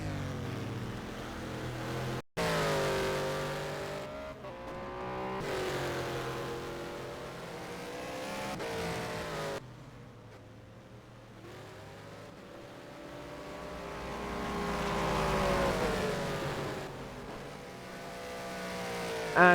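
Race cars lap the Bahrain circuit in a racing video game, their engines rising and falling in long sweeping whines as they pass and accelerate, fairly loud and continuous throughout.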